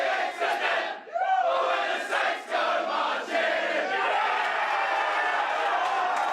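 Supporters of the Circular Head Saints celebrate a football win that ended a six-year drought, a loud, wild crowd roar of shouting and cheering that runs throughout, with individual yells rising above the din.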